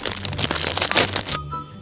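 A bag of Doritos Sweet Chili chips is torn open at close range, a dense burst of crinkly plastic crackling and rustling that stops abruptly, leaving quiet room tone.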